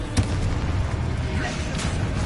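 The Confringo blast spell from the video game Hogwarts Legacy bursts in a sharp boom near the start, followed by a rumbling, crackling explosive wash that stays loud and fills the rest of the moment.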